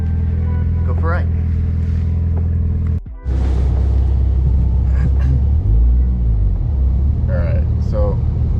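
A Mitsubishi Evo X rumbles low and steady as it pulls out of a snowy driveway, engine and tyre noise constant up close inside the cabin, with a brief dip partway through and a person talking over it.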